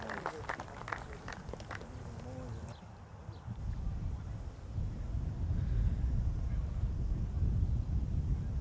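Low, steady wind rumble buffets the microphone on a disc golf course and grows stronger in the second half, with brief talk near the start.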